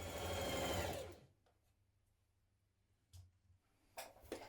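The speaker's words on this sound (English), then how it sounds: "we're going to stitch it in place, then press it open and flat" A sewing machine stitches the inside seam of a trouser leg on dungarees, a loud steady run of stitching that stops abruptly, followed by a few faint clicks and short bursts.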